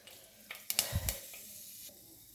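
Fenugreek seeds tipped into hot coconut oil in a pan already holding mustard seeds give a short, quiet crackling sizzle, with a couple of brief bursts rising over a soft background hiss.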